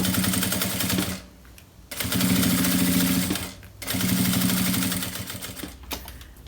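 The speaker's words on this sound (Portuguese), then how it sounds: "E eu vou passar essa costura aqui na parte de cima." A sewing machine runs in three long loud bursts with brief pauses between them, its needle whirring rapidly and steadily while stitching a bag lining seam, close up and with no talking.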